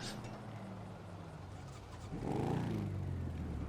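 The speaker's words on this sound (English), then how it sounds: "listen to that engine" Police motorcycle engine in the LSPDFR video game, a steady idle that rises abruptly into a louder revving surge partway through, heard alone without talk.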